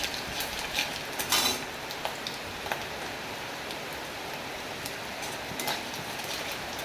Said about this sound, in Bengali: তেলটা গরম হয়ে গেছে, সাদা জিরা আর কালো জিরার ফোড়ন দিয়ে দেবো, দিয়ে ভালো করে নেড়ে চেড়ে নেব।